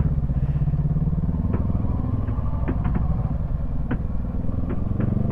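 A motorcycle engine rumbles steadily at close range on a steep mountain road to Mt Timbak, Benguet, with occasional clicks and clatters over the low, continuous drone.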